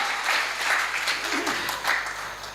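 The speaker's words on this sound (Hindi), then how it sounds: "एक बार जोर दे ताली बजाओ" Audience applause at a live Hindi comedy poetry recitation, a steady wash of clapping from a crowd that swells and ebbs over a couple of seconds, fairly loud throughout.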